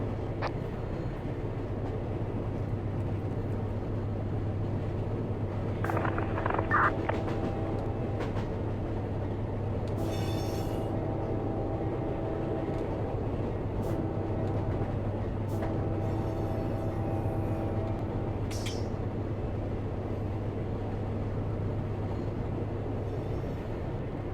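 A CSX intermodal freight train, Q177 carrying UPS loads toward Orlando, runs in the Run 8 train simulator with a steady low engine drone and rolling rumble. Occasional clanks and higher squeals sound over it, and no one speaks.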